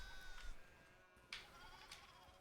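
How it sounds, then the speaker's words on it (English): Sheep in the video game Pentiment bleat several times, quiet and slightly distant, with short wavering cries spaced across a soft background. "I really like hearing all the sheep"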